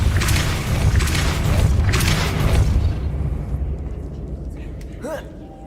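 A Depulso spell is cast in Hogwarts Legacy: a loud, deep rumbling blast for nearly three seconds that fades away, followed by a brief rising whistle-like tone, with a voice present.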